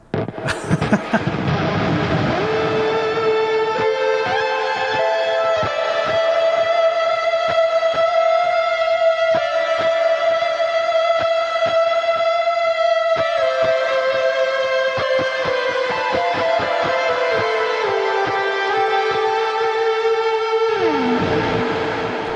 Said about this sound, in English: so there is a shimmer reverb, there is a hall reverb, and a room reverb as well